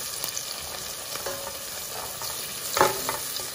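Quiet steady sizzling and crackling of spices, including roasted fenugreek seeds, frying in a pan with onions, with a few light scrapes and pops.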